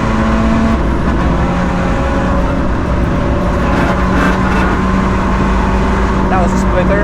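Seat Leon Cupra engine at the Nürburgring, flat-foot shifting: loud, continuous onboard drone with rising and shifting engine tones, wind and road noise filling the whole stretch.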